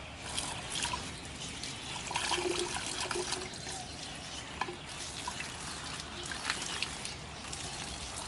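Water runs and trickles steadily while a carbon filter cartridge from a home water filter system is rinsed, a close, continuous splashing flow with small uneven surges throughout and no talk.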